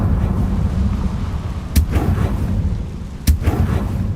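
Spell explosions in Hogwarts Legacy, the Confringo fire curse among them: two sharp, loud blasts about a second and a half apart over a rumbling game ambience, with no speech.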